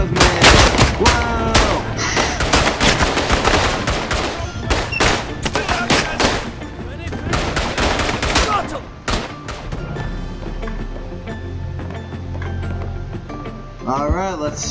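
Rapid bursts of gunfire from the World War I shooter game Verdun, dense and loud for several seconds before thinning into scattered distant shots, with excited players talking and shouting over it.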